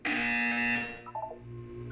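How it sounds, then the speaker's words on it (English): A buzzer in the Portal 2 video game: one loud, steady electronic tone lasting under a second, followed by a few brief softer chirping tones and a low hum. "You will hear a buzzer."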